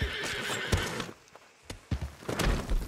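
A horse in the game Red Dead Redemption 2 whinnies loudly up close, followed by several heavy hoof thuds and snorting.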